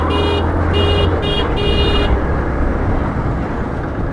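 A Bajaj Platina motorcycle engine runs on reserve fuel on a highway, a loud steady drone mixed with rushing wind. A few short pulsed electronic beeps sound during the first two seconds.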